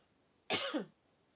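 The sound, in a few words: cough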